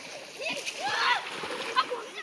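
Water rushes and splashes from a burst small earthen dam, a continuous splattering flow heard beneath children's lively voices.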